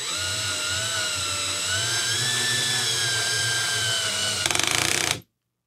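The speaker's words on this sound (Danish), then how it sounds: "Så skruer den skruen lige indtil den falder ned til det, hvor den skal ligge." A cordless screwdriver set to torque setting 7 whines steadily as it drives a screw, a loud close motor tone that ends in a brief clutch ratchet before stopping.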